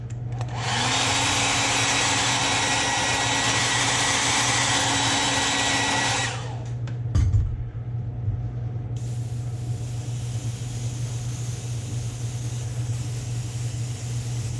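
Heat gun blowing steadily for about six seconds while heat-setting paint on a Megabass S-crank style crankbait lure blank, a loud, close, continuous airy roar with motor hum, then switching off to a quieter background hum.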